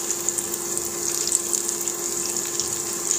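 Thankuni leaf fritters fry in hot oil, giving a steady, close hiss of sizzling that runs evenly with small crackles and no voices.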